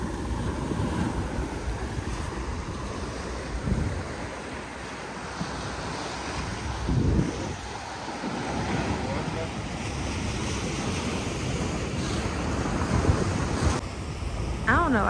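Ocean surf washes up a beach in Malibu with a steady, close roar of breaking waves and rushing water, buffeted by wind noise on the microphone throughout.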